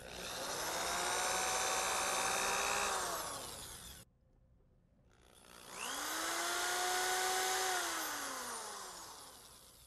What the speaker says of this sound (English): And now we drill our pilot holes.